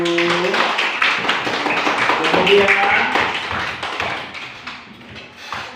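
Classroom students clapping hands together in a lesson, a burst of many quick claps that starts loud and thins out over several seconds, with a teacher's voice briefly speaking.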